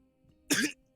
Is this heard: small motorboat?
no